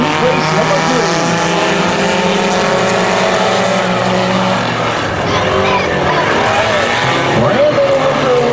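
Race cars roar around a speedway oval during a heat race, a loud, dense engine howl that rises and falls as the pack passes, with an announcer talking over the noise.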